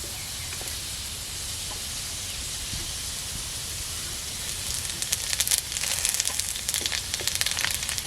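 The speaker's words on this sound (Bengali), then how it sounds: "বন্ধুরা আলুগুলো ভাজা হয়ে গেছে, ওটা তেতে দেবো জিরে আর তেজপাতা।" Cumin seeds and bay leaves hit hot oil in a pan, starting as a steady low hiss that swells into loud, crackling spits and pops toward the end, with no talking.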